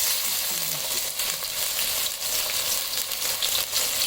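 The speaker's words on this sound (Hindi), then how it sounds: "तेल यहाँ पे गर्म हो चुका है तो डालते हैं अब इसमें प्याज" Chopped onions frying in hot cooking oil give a steady, loud sizzling hiss with light crackle and faint stirring throughout, heard alone without talk.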